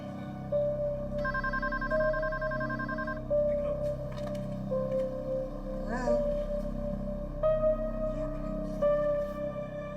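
A telephone rings on a second line at a home during a bank robbery, repeated electronic ringtone bursts recurring over a steady hum and music-like background at moderate volume.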